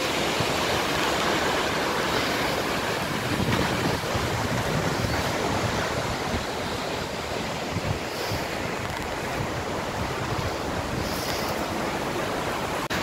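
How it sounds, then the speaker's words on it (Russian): Wind rushes steadily through dry pine trees in a forest in a broad, continuous roar with brief gusts swelling and fading, heard close without any talking. "Ветер шумит, конечно, в деревьях, сосны сухие."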